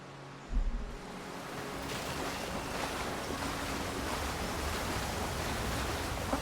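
A steady, rushing roar of a waterfall in the fantasy video game Avowed fills the scene, broad and continuous, with a brief low thump at the start and no talking.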